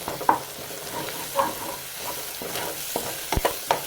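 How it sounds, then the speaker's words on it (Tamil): Tomatoes sautéing in a pan for crab pepper masala: a steady close sizzle with a few sharp stirring scrapes and clinks scattered throughout, no voices. "இந்த தக்காளியை நல்லா வதக்கணும் கொஞ்சம் வதங்கிடுச்சு"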